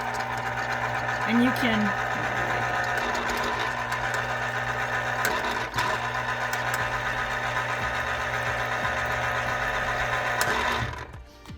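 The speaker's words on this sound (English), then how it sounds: "Because the Garibaldi calls for so much fresh squeezed orange juice, an automatic juicer, so much easier." Automatic electric juicer squeezing fresh oranges, a steady mid-pitched motor hum running continuously for about ten seconds before cutting off, with a person talking over it.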